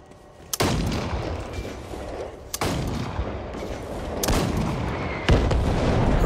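Weapon fire in the video game Back 4 Blood, several sharp booming shots spaced a second or two apart, each followed by a loud rumbling tail, with no talk.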